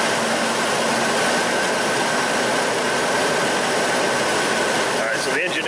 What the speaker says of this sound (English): the engine is running a little bit rough right now